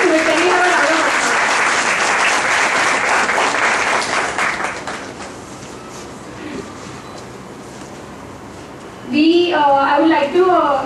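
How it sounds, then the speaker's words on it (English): Audience applause at a college convocation, a crowd clapping loudly at first, then fading to a quieter patter, before a voice over a public address system resumes speaking. "Can we have a round of applause?"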